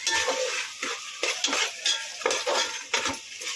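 Ginger garlic paste stirred in a hot pan for prawn rice, with a spoon scraping and clinking against the metal in repeated strokes over a soft sizzle, close and clear.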